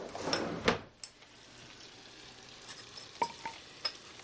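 Garlic and dried tarragon cook quietly in a pan with a faint low sizzle, broken by a few sharp clicks and scrapes of a utensil on the pan.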